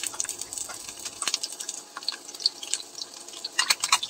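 Small onions and green chillies fry in hot oil in a pan for fish curry, with quiet, irregular crackling pops and spits that swell toward the end.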